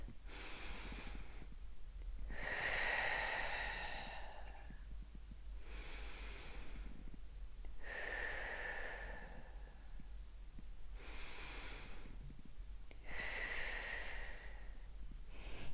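Slow deep breaths during a lymph drainage exercise, about six long cycles of audible nasal inhales and soft hissing exhales, close and unhurried, with quiet pauses between.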